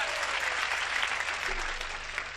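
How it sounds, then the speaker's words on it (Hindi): Audience applause at a Hindi comedy poetry show, a dense, steady burst of clapping from a live crowd, close and even throughout. "एक बार तालियां बजा दे दोस्तों"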